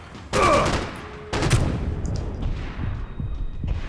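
Gunfire from a weapon in Max Payne 3: two loud, close bursts of shots, the second followed by a long rolling echo and scattered smaller reports fading away.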